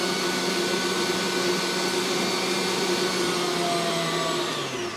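An electric whipping beater creams sugar and margarine in a bowl for muffin batter, giving a loud, steady motor whine. The drone holds even and close from start to finish, with no speech.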